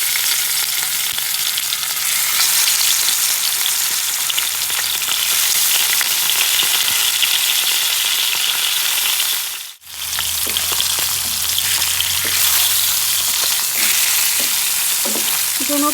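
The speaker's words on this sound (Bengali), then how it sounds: "এখন আমি মাছগুলিকে একটু লাল করে ভেজে নেব।" Pieces of rohu fish fry in hot mustard oil in a kadai, a loud, dense, continuous sizzle with a brief dip midway before the crackle resumes.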